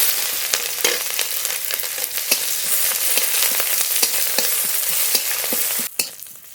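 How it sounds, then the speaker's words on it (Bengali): Chopped onion fries in hot mustard oil tempered with bay leaf and whole cumin, giving a dense, continuous close sizzle broken by sharp clicks of a spoon stirring, then an abrupt stop near the end. "পেঁয়াজটা একটু হালকা করে ভেজে নিয়েছি"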